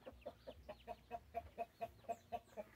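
Hens at a duck and chicken farm's nesting area give a quick, regular run of soft clucks, about a dozen evenly spaced calls, faint and close with little else around.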